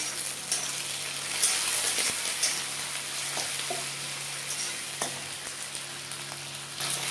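Prawns hit a pan of frying onions, setting off a steady hiss of hot oil with a few sharp crackles and scrapes close by, and no voices.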